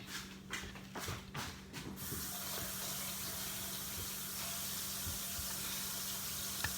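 Tap water runs steadily into a kitchen sink for hand washing before baking, a continuous close hiss with some splashing and knocking during the first two seconds, then an even flow with no speech.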